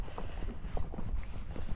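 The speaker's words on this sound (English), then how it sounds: "This is a Rocky Mountain horse." A Rocky Mountain horse walks with a steady clip-clop of hoofbeats, moderately close, over a continuous background of outdoor noise.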